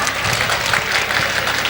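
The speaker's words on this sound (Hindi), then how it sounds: "बजाओ ताली," Applause from the audience at an All India Mushaira poetry gathering in Machli Chowk, Ratsar: dense, continuous clapping held steady for the whole stretch, loud and close.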